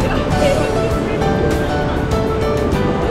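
Ocean waves washing back over a rocky shoreline, a broad continuous rushing surf with gusty wind, loud and close.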